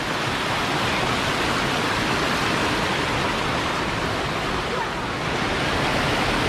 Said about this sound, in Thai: ตอนนี้เราอยู่ที่น้ำตกกระทิงชั้นที่3นะครับ